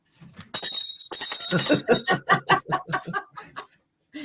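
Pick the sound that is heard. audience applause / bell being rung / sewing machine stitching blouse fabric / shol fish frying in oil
bell being rung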